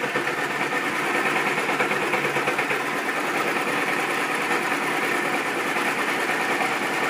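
A sewing machine stitching layered fabric for a pillowcase backpack runs in one steady, fast mechanical whir with rapid needle chatter, close and continuous throughout.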